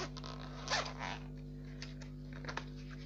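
A Faber-Castell pencil case being unzipped: one quick zip pull near the start, followed by faint creaks and fabric rustles over a steady low hum, close and quiet.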